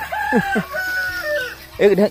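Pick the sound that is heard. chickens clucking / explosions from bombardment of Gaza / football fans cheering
chickens clucking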